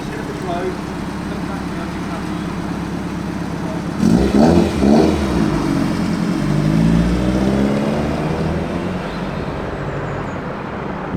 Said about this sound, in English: Mitsubishi Evo 6 Lancer. Very rally inspired.